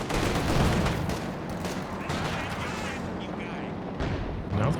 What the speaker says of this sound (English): now the P4 taking a few bazooka shots